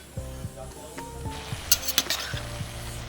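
Vegetarian cabbage curry cooks in a pan as its lid goes on, with a gentle sizzle, a couple of sharp metallic clinks from the cover, and background music running throughout.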